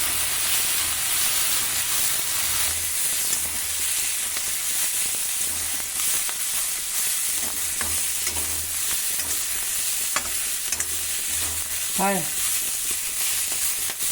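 Green chillies fry and sizzle steadily in a pan for a fenugreek leaf chutney, a close, continuous hiss with occasional stirring scrapes and light clinks.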